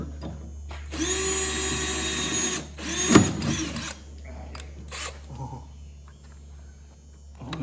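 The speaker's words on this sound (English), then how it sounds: "this drill sucks" A power drill reams a part on a 1960s Ski-Doo twin-track snowmobile, running in a loud sustained whine for about two seconds, then shorter bursts and clunks in a quiet workshop with occasional low voices.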